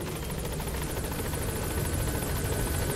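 A helicopter lifting away in Metal Gear Solid V: The Phantom Pain, a loud, steady whir of rotor chop that fills the whole moment without a break and without voices.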